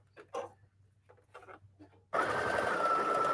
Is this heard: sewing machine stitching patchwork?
yes